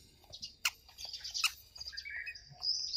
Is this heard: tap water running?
no